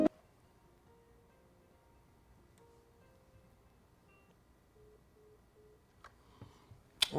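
A telephone busy signal sounds as a series of faint repeating tones, ending with a couple of sharp clicks near the end.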